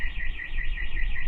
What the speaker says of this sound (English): Hey, someone set off the alarm again.